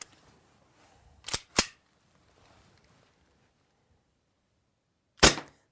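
SIG Sauer P226 X-Five airsoft pistol firing three sharp, close shots: two in quick succession, then a single shot a few seconds later against a quiet background.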